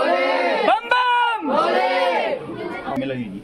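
Devotees crowd inside the cave of the Kapileshwar Mahadev temple in Pithoragarh, where loud voices shout and chant close by and echo off the rock walls.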